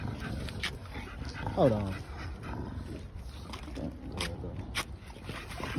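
A puppy, probably an American Bully, whimpers briefly in a few faint high cries at close range, under a man's speech and background noise.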